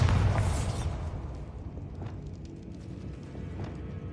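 A Bombarda blasting spell in a Hogwarts video game bursts with a loud, booming blast up front, then rumbles and fades into scattered lighter debris sounds.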